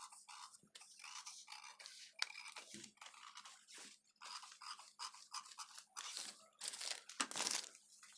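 Scissors snip and crinkle through a paper pattern for a puff blouse sleeve, giving a run of close, irregular crisp cuts and rustles with no talk.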